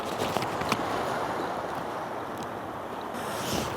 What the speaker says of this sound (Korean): 지금 뭐 파도가 굉장히 심하지는 않고 뭐라 그래야 되나 잔잔한 편이에요